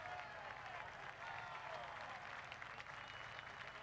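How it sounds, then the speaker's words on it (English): Real Mallorca football fans fill a stadium with steady, continuous applause during a trophy celebration for the squad, a broad wash of clapping and crowd noise that stays loud and even throughout. "You can hear the Real Mallorca fans applauding that squad"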